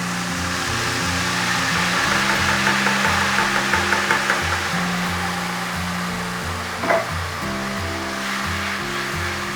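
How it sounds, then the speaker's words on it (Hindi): Tomato paste frying in oil with curry leaves and cumin, a steady hiss and sizzle with a brief stir partway through, while background music plays underneath. "कड़ी पत्ता और जीरा फ्राई हो गया, इसमें हम टमाटर का पेस्ट ऐड कर रहे हैं।"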